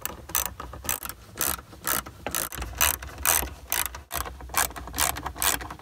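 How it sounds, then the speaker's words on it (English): Ratchet tightening 10 mm bolts and washers on the center mount of a jet ski during exhaust manifold pipe replacement; rapid bursts of close, loud ratcheting clicks repeat steadily throughout with brief pauses between strokes. "Resecure the 10 millimeter bolts and washers in place."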